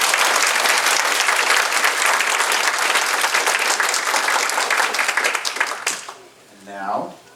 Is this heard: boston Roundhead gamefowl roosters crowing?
no